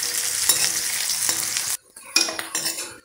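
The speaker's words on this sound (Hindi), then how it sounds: "एक प्याज को यहाँ पे हम कट करके डाल देंगे और इसको अब हम फ्राई कर लेते हैं।" Chopped onion frying in hot oil with whole cumin and bay leaf gives a loud, steady sizzle with clinks of a stirring spoon, then stops briefly and resumes in softer bursts of sizzling and scraping.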